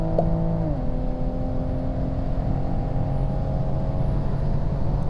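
A Toyota Supra and a BMW M4 accelerate side by side in a drag race, a loud, steady engine roar with a brief pitch shift near the start, then sustained droning as the cars pull away.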